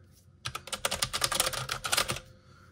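Keys clatter rapidly on a Cougar Attack X3 Speedy mechanical keyboard in a dense, steady burst of typing lasting about two seconds, close and clear with no voices.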